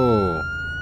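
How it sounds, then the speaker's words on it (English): A police car siren in the video game Emergency Response: Liberty County sweeps sharply downward in a loud wail, then gives way to a sustained high tone, brief and close. "While in code 3, you can use the siren."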